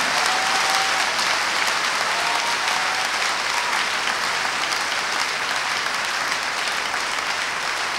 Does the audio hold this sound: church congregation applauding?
yes